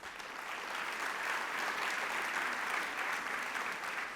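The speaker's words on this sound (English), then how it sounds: "I think you all deserve a round of applause." Audience applause at a conference session, a steady dense wash of clapping from a large crowd that holds evenly for several seconds with no talk over it.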